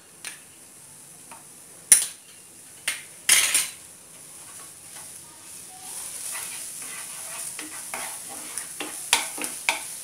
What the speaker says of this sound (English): And then saute it. For about a minute till the garlic is light brown in color.